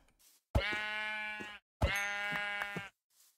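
Two clear, sustained bleats from a sheep in the Minecraft video game, each about a second long with a short pause between, nearby and isolated against near silence.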